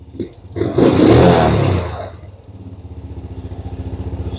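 Honda TRX 90 ATV engine revved hard by hand with the throttle, a loud roaring burst that then drops back to a steady, pulsing idle close by.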